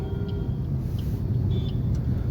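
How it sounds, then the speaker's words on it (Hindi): A car creeps along in heavy road traffic during a driving lesson, heard from inside as a constant low engine and road rumble with faint higher tones from the surrounding traffic. "काफ़ी ट्रैफिक आ रहा है, आराम से लेंगे।"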